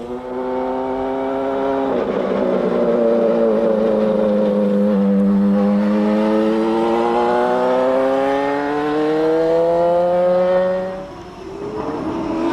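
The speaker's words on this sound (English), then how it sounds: "The familiar bark of the Cosworth engine shatters the still morning." A Cosworth-engined IndyCar race car revs hard on the Sebring circuit on a still morning, its loud, close engine note sweeping up and down through long sustained pulls with a brief dip near the end.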